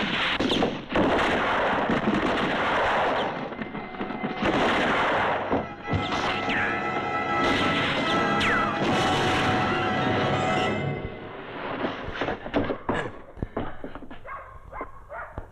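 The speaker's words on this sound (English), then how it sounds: "Quick! All of you, fire at that barrel!" Gunfire aimed at a rolling barrel in a 1967 war film, a chaotic stretch of overlapping shots, impacts and crashes followed by a heavy blast that fades into scattered debris and quieter noise.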